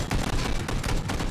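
Rapid gunfire in a PUBG match, several close shots crackling in quick succession with dense bursts filling the short moment and no talk over them.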